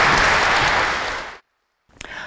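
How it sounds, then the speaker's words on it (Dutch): An audience gives loud, dense applause that fades out after about a second and a half. Brief silence follows, then a few sharp knocks and noises. "een heel welverdiend applaus voor Niek van Tienen"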